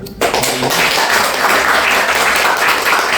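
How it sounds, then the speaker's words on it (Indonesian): A university lecture audience breaks into applause after a presentation, a brief burst of dense, steady clapping from many hands filling the room. "Boleh tepuk tangan dulu."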